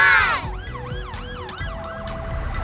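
An ambulance siren at a hospital emergency department wails in quick rising-and-falling sweeps, loud and close, over a low engine rumble, then settles into a steadier tone.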